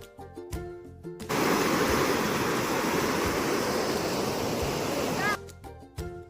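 Rushing water roars loudly and steadily at an outdoor picnic spot, a dense hiss lasting several seconds, framed by brief tonal, music-like sounds just before and after.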